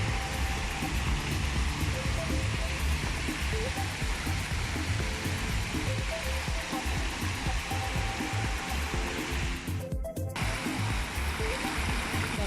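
Fountains along the Dambovita river in Bucharest splash in a dense, constant rush of falling water that stays loud and unbroken throughout, with only brief faint sounds layered on top.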